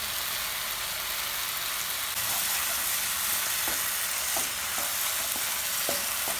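Onion-tomato masala with chili sizzles and fries in hot oil in a pan, a steady loud crackling hiss with occasional soft stirring scrapes and no talking.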